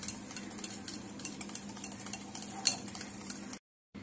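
Cooked dal (lentils) being mashed in a pot, a soft, steady scraping and stirring with faint clinks of a utensil, close and alone, ending in a brief silence.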